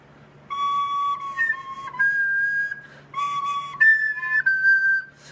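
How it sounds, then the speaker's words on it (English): A recorder is played with its finger holes not fully covered, giving thin, wimpy whistling notes in two short phrases that barely change pitch, close and clear with no talk. "if there's a little bit peeking out, it's going to have a really wimpy sound where nothing changes"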